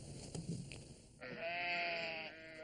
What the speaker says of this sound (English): They're sheep.